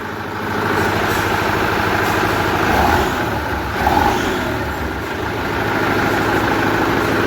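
A diesel tractor engine idles loudly nearby with a steady low throb and a persistent hum, easing up and down slightly in level without ever cutting out.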